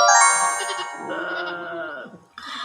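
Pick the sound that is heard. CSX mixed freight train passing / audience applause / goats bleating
goats bleating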